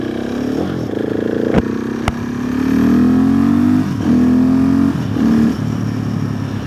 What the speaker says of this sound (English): I do like how the outside mics pick up the engine, the exhaust